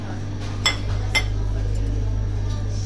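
Plates handled in a home kitchen, giving two or three light clinks of dishes over a steady low hum, close by with no talking.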